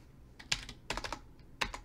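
Keys clatter on a computer keyboard in three short bursts of quick, close clicks, each cluster separated by brief pauses, with no talking.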